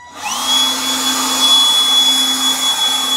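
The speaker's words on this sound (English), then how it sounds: "Okay, so let's see how it does. That's on low. Let's go to high." A Milwaukee M12 compact spot blower spins up and runs on high, a loud steady close whirring whine with a sustained high tone, alone with no talk.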